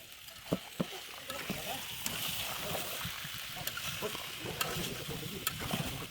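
Chicken sautéing with turmeric, salt and a little water in a pan, a steady sizzle with repeated scraping stir strokes and occasional sharp clinks of a utensil against the pot.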